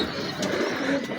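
White Golden pigeons coo softly at close range in a short, low murmuring phrase, with faint background noise and no speech.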